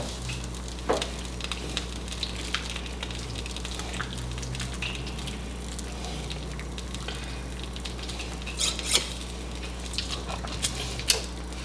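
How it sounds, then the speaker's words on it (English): Liquid and spinach are whisked into a cream sauce for tortellini in a hot pan on the burner: a steady, close sizzle with occasional sharp clinks and splashes of the whisk. "I'm just going to whisk this in"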